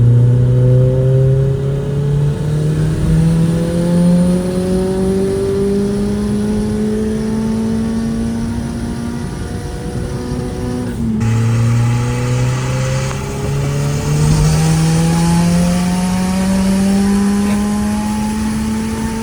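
A car engine running on E85 fuel revs up loudly and steadily climbing in pitch toward redline, drops back after a gear change, then climbs again, close and without speech.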